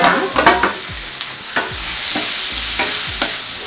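Steady bubbling and sizzling from a pot of fish curry boiling, with occasional soft scraping knocks of a utensil against metal, close and continuous.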